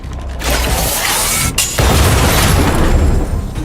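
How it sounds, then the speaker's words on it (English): Stealth bomb explosion in Honkai: Star Rail, a loud broadband boom with mechanical rattling, a brief sharp crack partway through, then a heavy rumbling blast that sustains to the end, with no talk. "We wiped them all out in a single explosion!"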